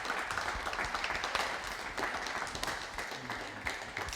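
Applause from an audience at a QubicaAMF Bowling Promotion Cup mixed team event, greeting the winning bowlers; a steady, fairly faint wash of clapping runs throughout with no one speaking.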